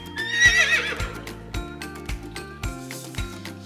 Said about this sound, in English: First, we have a brown horse.